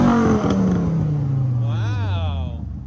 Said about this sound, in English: I come out and do rev sessions with my new exhaust on my Viper